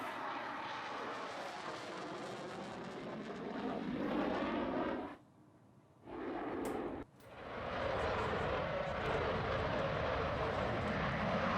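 A Rafale fighter jet lands at Ambala, a loud broadband jet roar that cuts out abruptly twice in short gaps before resuming at full strength, with faint speech in the mix.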